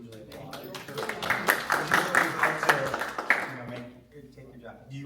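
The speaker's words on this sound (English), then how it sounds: "We usually applaud" Board meeting audience applauding a new facilities director, a brief burst of many hands clapping together at moderate loudness that swells and fades, with voices talking under and after it.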